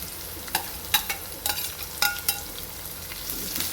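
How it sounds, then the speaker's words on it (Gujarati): Garlic, green chillies and curry leaves sizzling in hot oil for a vaghareli rotlo tempering, with a continuous close crackle broken by repeated scraping stir strokes of a spoon in the pan, no talk. "લસણ, મરચાં અને મીઠો લીમડો થોડી નાખીશું"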